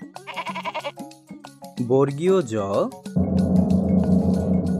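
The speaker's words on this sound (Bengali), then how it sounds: "ছতে ছাগল। ছাগল ছানা লাফিয়ে চলে।" A young goat kid bleats in several wavering, nasal calls, fairly close and loud, with a sustained bleat near the end that runs over a steady low background.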